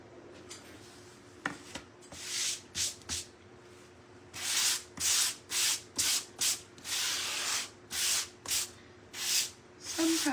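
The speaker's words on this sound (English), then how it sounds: "go over it with a fine grit. Before I paint again" A painted wooden shelf sign being hand-sanded with fine-grit sandpaper: bursts of dry, hissing scratchy strokes, sparse at first, then a quick regular back-and-forth rhythm, close and fairly loud with no talking.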